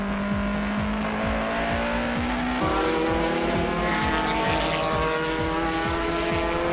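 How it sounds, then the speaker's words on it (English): Race cars, including the Esso Supra, roar past on a circuit with engines revving loudly and gear changes repeating in a steady rhythm, close and continuous with no talk. "As Orido takes the outside line, the Esso Supra passed him from the inside."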